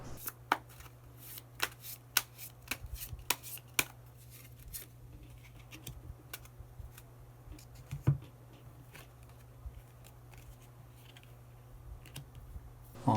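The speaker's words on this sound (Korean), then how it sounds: "마지막으로 히든 카드 한 장 더 모아보도록 하겠습니다" Tarot cards are shuffled close up to draw a hidden card, producing a run of sharp riffling snaps and taps, busy at first and then sparser over a quiet low hum.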